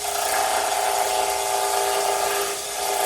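A wood lathe spins a pen blank with a steady, loud, high-pitched whir and hiss that holds constant, dipping briefly near the end.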